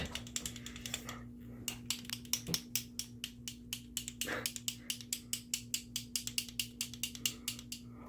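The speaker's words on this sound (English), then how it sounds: "before you use each color, you'll want to shake it up really well too" A LipSense lip color tube shaken hard, producing a fast, regular run of sharp rattling clicks, close and clear, steady for several seconds over a faint background hum.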